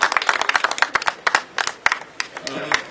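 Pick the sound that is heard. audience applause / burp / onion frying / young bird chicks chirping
audience applause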